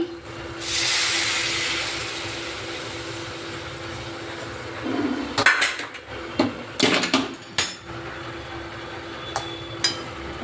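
Hot water pours into a pan of bata fish curry with drumsticks and potato, a loud hissing gush lasting about a second, followed by clinks and clatters of a metal utensil against the pan.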